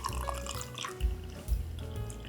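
A tequila cocktail is strained, with faint trickling and a few soft drips of liquid falling into a glass at close range.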